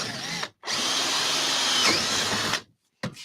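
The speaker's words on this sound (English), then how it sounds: "there's going to be a bit of drilling, so watch out for the noise" A loud electric drill whines in one long continuous burst, stops, and then briefly starts again at the end.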